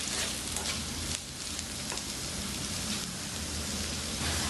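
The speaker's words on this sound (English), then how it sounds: "we'll be putting the stem part of the coriander into the base and saute it for 30 seconds or so." Coriander stems sautéing in a pan for kande pohe, a steady soft sizzle and crackle of frying throughout, faint and close, with no voices.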